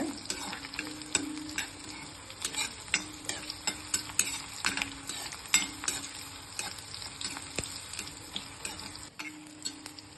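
Green chillies sauté in a pan for a chutney, with a soft continuous sizzle under repeated scraping stirs of a spoon at an irregular rhythm, close and fairly quiet.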